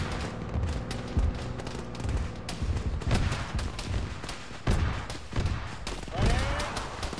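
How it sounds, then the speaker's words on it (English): Cannon fire and heavy gunfire in a military video game come as repeated booming blasts and crackling shots, loud and close, mixed with a dense battle din and occasional voices. "Direct cannon fire from the southeast."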